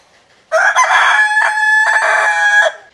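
A rooster that has acted in films crows one long, loud, close cock-a-doodle-doo of about two seconds, heard alone and clear, with a short stutter partway through.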